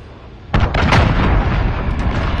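A cruise missile explosion in the Modern Warfare video game, a sudden loud blast followed by a sustained rumbling roar and crackle that fills the rest of the moment.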